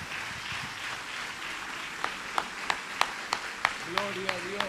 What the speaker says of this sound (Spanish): ¿Cuántos dan un aplauso a Jesús?